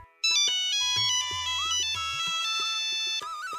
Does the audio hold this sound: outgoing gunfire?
no